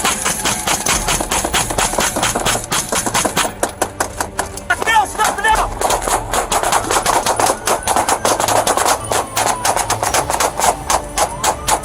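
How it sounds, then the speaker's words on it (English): Rapid gunfire erupts during a police standoff after a truck chase, a dense burst of sharp, loud shots in quick succession that runs for about twelve seconds, with voices and engine noise mixed in. "Surrounded by officers, gunfire erupted."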